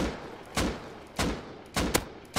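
Gunfire in the survival video game Rust: four loud bursts of shots spaced roughly half a second apart, each sharp and broadband, set against a steady background hiss with no talking.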